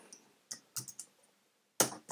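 Computer keyboard typing in short bursts: a few separate clicks, a brief cluster of taps, a pause, then a louder sharp keystroke and one more, close and alone.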